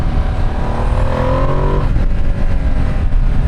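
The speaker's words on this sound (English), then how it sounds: "Yeah, that quick shifter works perfect." A Ducati Streetfighter V2 S motorcycle accelerates hard, its engine note rising as it revs. Near the midpoint a quick-shifter gear change cuts in, and the engine pulls on at a lower pitch. The sound is loud and close, with no talking.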